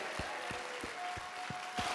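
Congregation at a church revival prayer meeting clapping in a steady rhythm, about six hand claps spaced evenly over a continuous crowd murmur, with a faint sustained tone behind.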